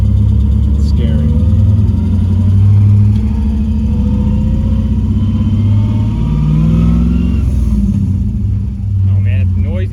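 An LS V8 swapped into a Mazda RX8 accelerates from inside the cabin, its low engine drone rising in pitch through the revs, loud and close, with people talking over it.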